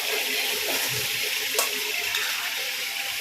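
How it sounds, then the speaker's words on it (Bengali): Green chillies frying in vinegar in a pan, a steady close sizzle with a bubbling, watery hiss and a brief clatter. "এবার এটা একটু ফ্রাই হোক।"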